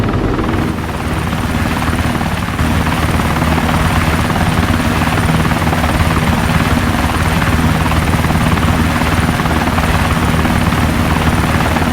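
Helicopter in the video game Arma 3, flying from a cockpit view: a loud, steady rotor drone and engine whine running continuously throughout, with no talk.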